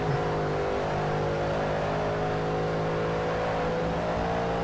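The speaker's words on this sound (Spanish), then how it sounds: "Vamos a poner el buggy. ¿Cuál? El baja buggy." A baja buggy engine in the racing game ToCA Race Driver 3 holds a steady, droning rev at moderate loudness, heard alone without talk.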